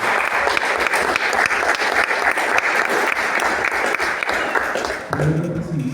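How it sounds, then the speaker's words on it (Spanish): An audience applauds loudly and steadily at a cultural centre event featuring guitar and Guarania music, the clapping dense and sustained before fading out near the end. "Un aplauso por favor."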